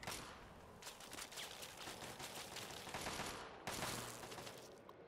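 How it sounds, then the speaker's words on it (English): Gauss rifle fire in Fallout 3's Operation: Anchorage add-on, a dense run of sharp cracking shots and bursts in a loud battle, with a heavier volley near the end. "Use my Gauss rifle here."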